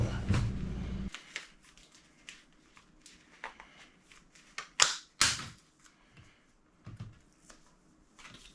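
Trimming a piece for an RV air vent: a sharp burst of cutting noise at the start, then scattered clicks, snips and a couple of louder snaps at close range, with quiet pauses between.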